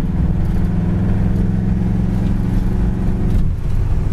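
A car engine idles steadily with a smooth, continuous low rumble at close range, loud and even throughout with no talking.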